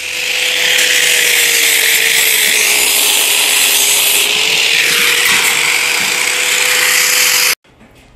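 A power tool grinding down welds on a steel washing machine drum being turned into a fire pit, a loud, steady, close whine with slight pitch dips that holds for about seven seconds, then cuts off abruptly.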